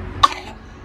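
A child gives a single short, sharp cough, close by, at a park during a family holiday outing, with no talking.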